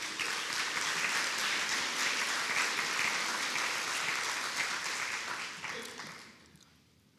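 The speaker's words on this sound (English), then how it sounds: "They deserve a round of applause." Sustained audience applause at a city's State of the City address in San Angelo, steady and dense for several seconds before tapering off near the end.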